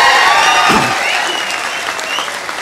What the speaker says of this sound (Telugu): మనమందరం కూడా వారికి ఒకసారి గట్టిగా చప్పట్లతో మన సంతోషాన్ని వెలిబుచ్చుదాం